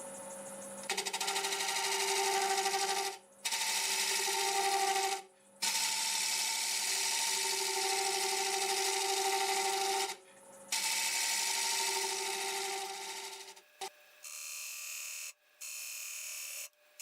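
A negative rake scraper cutting a wood burl board spinning on a lathe makes a loud, steady, close rasping whine, broken by a few brief pauses, then shorter scraping passes near the end.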